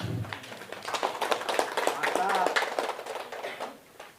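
Scattered audience clapping rises at a political talk, fairly quiet and mixed with a speaking voice, swelling in the middle before thinning out.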